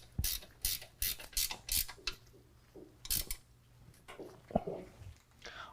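Ratchet wrench with a 13mm socket tightening brake line bracket bolts on a 2018 Jeep JL 2-door, a series of short clicking bursts in a steady rhythm, close and fairly loud, with brief pauses and small metallic knocks between strokes.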